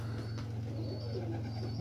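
Month-old young pigeons coo close by in a steady, continuous low murmur, with a faint high chirp overhead and no talk.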